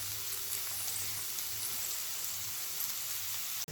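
Bhindi masala frying gently in a pan on a low flame, a soft continuous sizzle with faint patter, steady and close, ending in a short clack.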